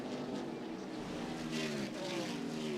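NASCAR stock cars racing past at Watkins Glen, a loud engine roar that swells as the cars go by, with a rising then falling pitch and a commentator talking underneath.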